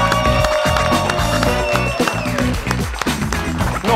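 An audience applauds a famous vallenato singer as he is welcomed onto a TV bar show, with dense, steady clapping and crowd noise over music, loud and close throughout.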